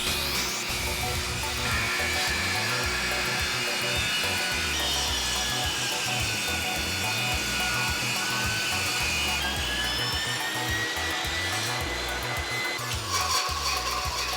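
A power saw ripping 2x6 wood boards lengthwise in half, a loud, continuous, close whine and grinding roar that holds steady with small shifts in pitch as the blade moves through the wood.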